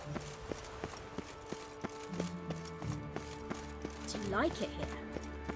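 Roach the horse gallops through The Witcher 3 with regular hoof clip-clops amid game music and ambience, while a person talks over the hoofbeats.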